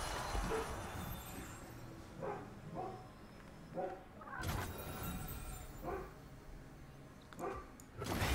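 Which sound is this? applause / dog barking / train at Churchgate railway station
dog barking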